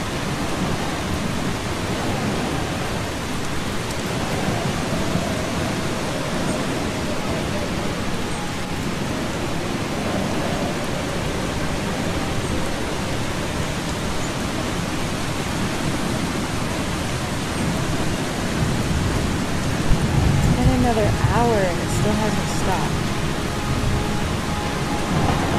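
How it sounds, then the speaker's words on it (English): Heavy rain from a thunderstorm in the video game Eastshade hisses continuously over low thunder rumbles, growing slightly louder toward the end, with no talking. "Is this storm gonna stop?"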